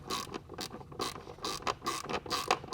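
Ratchet wrench clicking rapidly in short repeated bursts as it loosens a 10 mm bolt on a BMW B58 oil filter housing, close and fairly quiet.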